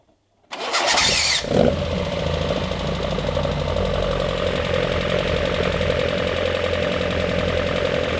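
A car engine cranks and fires, briefly revving up before settling into a steady, loud idle nearby.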